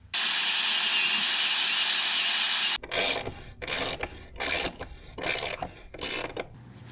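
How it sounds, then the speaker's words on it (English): A power drill whines steadily for a few seconds and stops, followed by a run of rhythmic rasping bursts as holes are tapped in the side of a Jeep XJ's metal frame, close by. "I'm just going to go ahead and drill and tap these holes right in the side of the frame"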